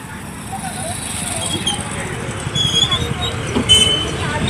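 Road traffic rumbles past with several vehicles going by, engine noise swelling and fading and a brief horn-like tone, while people talk nearby over the street noise.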